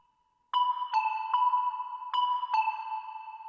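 A floating synth melody in a pop-style beat rings out in bright, sonar-like plucked notes, each struck note hanging in a long reverb tail as the short phrase steps along after a moment of near silence.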